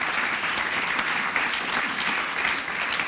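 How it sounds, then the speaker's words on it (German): An audience of school students and teachers at a Gymnasium Würselen presentation breaks into steady applause, a moderate, even patter of many hands filling the whole stretch. "Ja, das ist ein Applaus wert, absolut."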